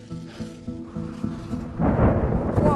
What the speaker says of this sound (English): There's a big crack of thunder